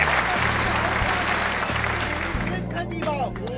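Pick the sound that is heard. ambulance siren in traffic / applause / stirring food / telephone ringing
applause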